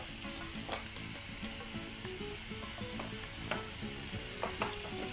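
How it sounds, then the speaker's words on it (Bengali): Pieces for a Bangladeshi-style coconut chicken fry in hot oil, a close steady sizzle broken by scraping and clinking as a spoon stirs the pan, with no talking. "সরাসরি তেলের মধ্যে দিয়ে এটা ভাজতে হবে"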